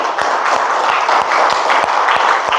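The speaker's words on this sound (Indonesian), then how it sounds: "Yuk kita beli dulu aplaus buat Deston." An audience applauds for Deston with steady, dense clapping that holds an even level throughout, with no talk over it.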